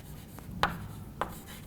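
Pen or pencil writing notes on paper, quiet scratchy strokes with two brief louder marks, close and alone with no talking.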